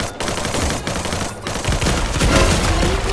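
Dense, continuous rapid gunfire from a Free Fire mobile shooter game, a loud rattling burst of shots filling the whole moment with no pauses.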